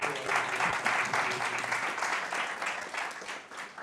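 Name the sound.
audience applause at youth retreat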